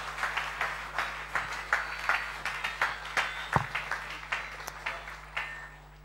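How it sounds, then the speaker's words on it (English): Church congregation at a graduation ceremony clapping in rhythm as a group, steady near claps in repeated bursts over a low hum. "Can we give Jesus a clap and offering?"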